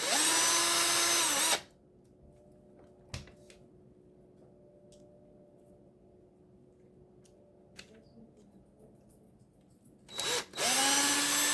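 Power tool loosening the portal axles on a Traxxas TRX-4 RC crawler: a loud short whirring burst, then a long quiet stretch with a faint hum and small clicks, ending in another brief motor burst.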